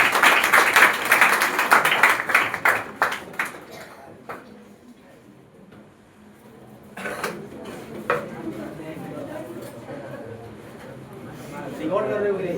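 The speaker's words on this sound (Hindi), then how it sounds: "गुंजा कुमारी के लिए जोरदार तालियां" A crowd claps loudly at a student award ceremony for a coaching centre honoring Bihar Board toppers, then the clapping thins out and fades; scattered voices and handling noises follow, with talk picking up later.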